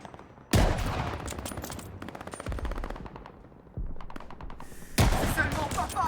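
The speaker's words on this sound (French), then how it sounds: "On essuie des tirs d'en haut." Machine gun fire raining down from above inside a hotel lobby in Call of Duty Vanguard, heard as loud, rapid bursts of automatic gunshots with brief gaps between volleys.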